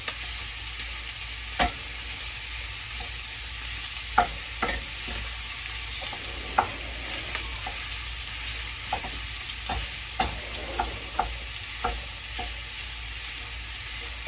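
Italian bulk sausage from a market sizzles steadily in a pan, a constant close frying hiss broken by the periodic scrape and clack of a utensil stirring it.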